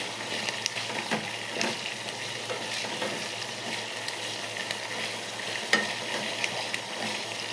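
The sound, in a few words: herbs cooking in hair oil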